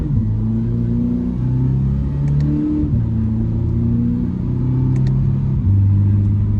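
A 2024 Toyota GR86 automatic in track mode accelerates hard, its engine note climbing steadily and dropping at each paddle-shifted upshift, a loud in-cabin drone with several distinct gear changes.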